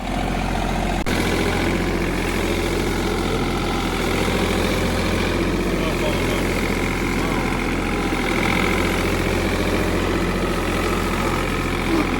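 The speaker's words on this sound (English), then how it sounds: "Hung up on the mower." A lawn mower engine drones steadily and loudly at close range, a constant low rumble that fills the whole stretch, with people talking faintly beneath it.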